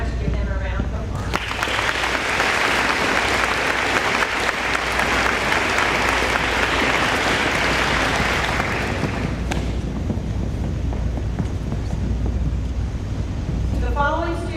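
A school audience at a spring senior award ceremony gives a round of applause, thick sustained clapping that swells, holds for several seconds and then fades, leaving quieter room noise with some murmuring.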